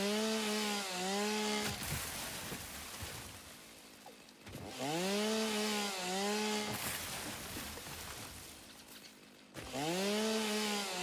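A chainsaw clears trees in the game Satisfactory, its motor revving up in three long, loud bursts with short dips between, no talking over it.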